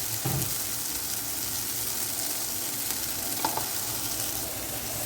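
Tadka of ground spices, garam masala, coriander, cumin and chaat masala, sizzling in hot oil for chole, a steady close crackling hiss with a few soft stirring clinks and no voices.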